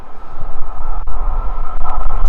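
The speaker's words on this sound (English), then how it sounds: "And there's a train." A train rumbles through Farnborough Main station on the South Western Main Line, a close, steady roar with a sustained metallic whine running throughout.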